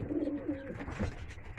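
Homing pigeons coo in their loft after returning from a 15-mile young-bird toss, soft close-up throaty coos early on over a low background murmur.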